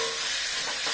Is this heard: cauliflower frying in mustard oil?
yes